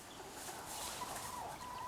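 Backyard chickens cluck and murmur softly in a steady, noisy outdoor wash, with low warbling calls running under broadband background noise.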